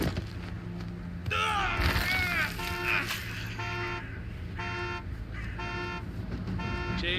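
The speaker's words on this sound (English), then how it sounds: "Can you confirm the alarm I'm hearing?" An alarm sounds in repeated electronic tones that pulse on and off at a steady rhythm, moderately loud, preceded by a short burst of voice-like sounds.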